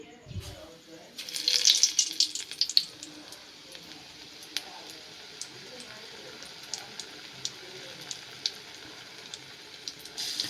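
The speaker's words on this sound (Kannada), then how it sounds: "ಇದು ಅನ್ರಿಫೈನ್ಡ್ ಶೇಂಗಾ ಎಣ್ಣೆ ಇರೋದಕ್ಕೆ ಸ್ವಲ್ಪ ಜಾಸ್ತಿ ಬುರುಗ್ ಬರಾಕತ್ತೈತಿ" Chili fritters frying in hot unrefined peanut oil for North Karnataka mirchi baji, a soft continuous sizzle with scattered crackles and pops, louder bursts early as the battered chilies drop in, then steadier bubbling.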